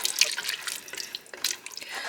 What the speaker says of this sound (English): So now I'm going to add my water.